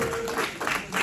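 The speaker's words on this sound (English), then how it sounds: "Give her a round of applause." Brief applause from a seated audience at a blockchain history presentation, a short burst of clapping mixed with a little voice.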